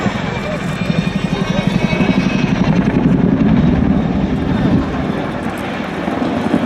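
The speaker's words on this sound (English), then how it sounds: "The 2015 RAF Chinook display team" An RAF Chinook twin-rotor helicopter flies a display routine, its rapid rotor chop throbbing loud and continuous as it manoeuvres, swelling and easing slightly over the pass.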